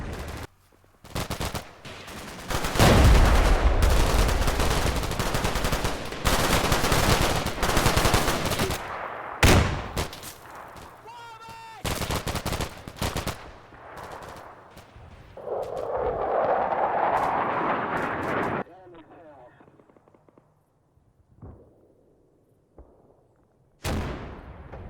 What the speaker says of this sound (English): First platoon coming under fire from the northern farm.